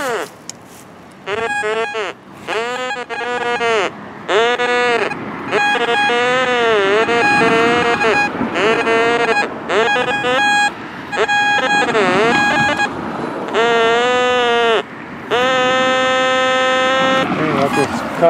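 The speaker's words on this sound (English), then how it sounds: "We'll run the detector over it again." A metal detector sweeps over the ground and sends out a run of loud warbling electronic tones in separate bursts of varied pitch. Some bursts waver and some hold steady, with short gaps between them.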